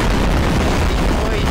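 Loud, unbroken roar of multiple bombs blowing up at once in Garry's Mod, heavy low booming that fills the whole moment without pauses.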